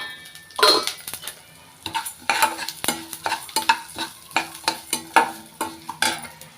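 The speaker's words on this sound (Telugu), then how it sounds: "కొద్దిగా నూనె వేసుకొని మామూలుగా అయితే నేను అన్నీ కలిపి వేసేస్తాను ఇప్పుడు ఎక్కువ ఉన్నాయి కాబట్టి చూడండి ధనియాలు మెంతులు ఆవాలు అన్నీ ఉన్నాయి కదా అవన్నీ వేసేస్తున్నాను" Coriander, fenugreek and mustard seeds fry in oil in a pan while being stirred, making soft sizzling under repeated rhythmic scraping and clinks of a utensil against the pan, close and fairly quiet, with no talking.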